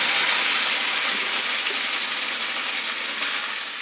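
Shrimp dropped into hot oil in a kadai, a loud, dense hiss of sizzling that fills the whole moment close up and tapers slightly toward the end, with no voices.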